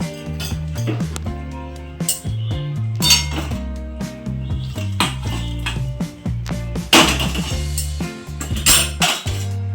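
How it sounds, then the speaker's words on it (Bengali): Cooked jute greens are poured from a pot into a dish in a home kitchen, with close clinks and scrapes of metal cookware and utensils knocking irregularly for several seconds. "তো গ্যাসটা অফ করে আমি শাকটা এখন ঢেলে নিই।"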